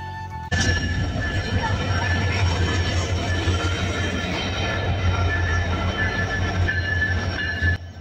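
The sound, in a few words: passenger train arriving at station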